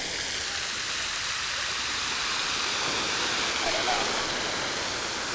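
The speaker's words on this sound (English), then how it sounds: "These waves are crazy" Ocean waves crashing on a rocky beach as a steady, loud wash of surf, broad and continuous with only slight swells in intensity.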